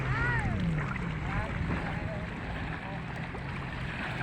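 Water sloshing and engine drone of a small Filipino bangka boat moving along, with wind noise and indistinct voices talking over it.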